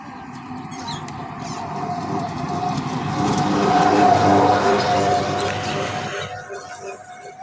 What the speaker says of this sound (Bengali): একটা অটো আসতেছে।